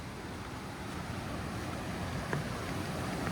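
Steady broadband rush of the Thompson River flowing, heard on a hiking trail crossing; constant, fairly close and moderately loud, with wind noise blended in and no voices.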